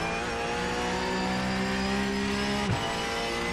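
A race car engine in the iRacing simulator holds a steady mid-pitched drone with a brief pitch dip near the end, as if shifting or lifting, with no talk over it.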